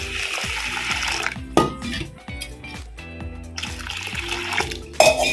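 Water poured over tapioca pearls to soak, a running, splashing pour with clinks of a vessel and a few sharp knocks between bursts, close and fairly loud with no talk.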